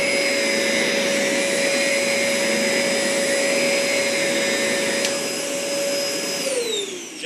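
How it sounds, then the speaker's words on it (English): A ZeroG floating vacuum cleaner runs with a steady loud whine and a sustained high tone as its power nozzle keeps spinning. Near the end the pitch shifts and slides downward, and no one speaks. "now when I turn this vacuum back on, you'll see that the power nozzle turns right back on to keep moving"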